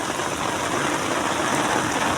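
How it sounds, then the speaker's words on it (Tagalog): Heavy rain pours during a storm while fishing, a dense, continuous hiss, steady and enveloping with no voices. "Nabuhos ang ulan."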